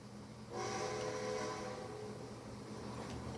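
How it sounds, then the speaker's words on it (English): A train in the Red Dead Redemption 2 video game, with a low rumble of rolling cars and a whistle blast that cuts in after half a second and holds for about a second, then fades back under the running rumble. "There's another train behind you, dude."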